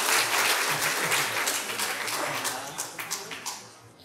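A crowd at a church education department graduation ceremony applauds warmly, a dense wash of many hands clapping that gradually thins into scattered individual claps.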